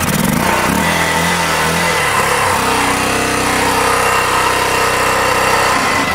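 A Harley-Davidson military dirt bike engine runs steadily and loud up close, with a dense mechanical roar and a shift in pitch partway through as the motor settles into a lower, throbbing rhythm.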